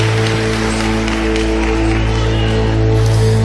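A church congregation applauds, giving a dense, steady wash of many hands clapping together, loud and continuous throughout, over a low, humming background.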